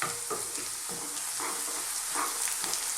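Onions fry in a pan for an aloo keema curry, a loud continuous sizzle with occasional stirring scrapes, heard close up with no talking.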